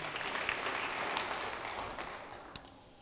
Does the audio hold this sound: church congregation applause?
yes